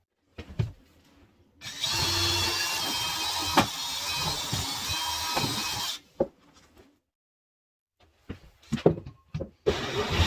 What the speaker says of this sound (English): Let's drill a hole in the wall.